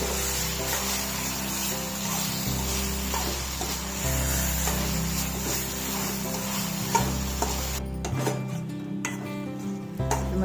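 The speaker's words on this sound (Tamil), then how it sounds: "நம்ம தக்காளி வெங்காயம் நல்லா வதங்கிடுச்சு." Tomatoes and onions sautéing in a pan for kaara chutney, with a low sizzle beneath repeated scraping and clinking of a spoon against the pan, close and steady, plus a constant background hum and no talking.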